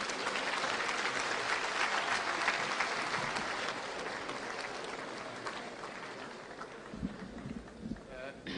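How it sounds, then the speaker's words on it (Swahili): Sustained, dense applause from an audience at a school gathering fills the space steadily, then thins slightly toward the end, with a few scattered louder claps and some background voices. "Makofi"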